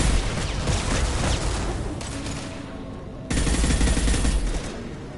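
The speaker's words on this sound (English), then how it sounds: "Stop firing at me, idiot!" Dense gunfire from a Mass Effect 2 battle, with continuous bursts of rapid shots and booming impacts filling the whole stretch, briefly thinning before a loud renewed barrage.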